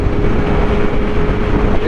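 A BMW M4 with a MotoGP shorty exhaust and no catalytic converter pulls at full power in fourth gear on the highway, giving a loud, dense, continuous drone with heavy wind noise throughout and no break in the sound.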